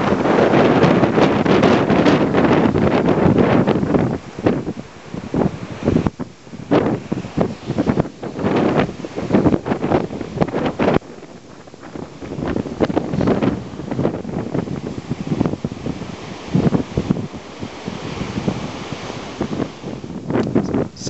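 Ocean waves roll and crash below sea cliffs, a continuous loud roar of surf heavily buffeted by wind noise on the microphone, with surges and lulls and no voices.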